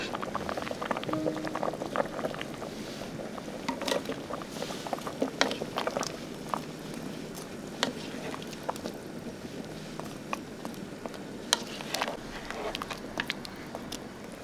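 Beef stew with carrots and potatoes simmers in a pot, a soft, steady bubbling with scattered small pops and gurgles, faint and close, continuing unbroken without talk.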